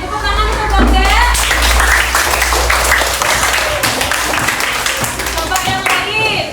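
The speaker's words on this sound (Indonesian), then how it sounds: "Tepuk tangan untuk Bang Dea." Elementary school class clapping hands together in a classroom lesson, a loud, dense round of applause from the children lasting several seconds, with a teacher's voice talking over it.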